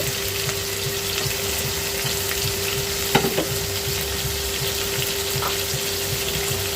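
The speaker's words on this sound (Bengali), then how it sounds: "এবার একটু চিংড়ি মাছটা একটু ভাজবো" Shrimp with onion sizzles steadily in a pan of oil while being stirred, a constant close frying hiss with a sharper utensil clink partway through and no talking.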